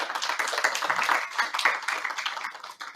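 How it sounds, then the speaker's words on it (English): Audience applause at a global women's summit, steady dense clapping from many hands filling the room for students being named, continuous with slight swells and no pause throughout. "you can give the students a round of applause as the names are called"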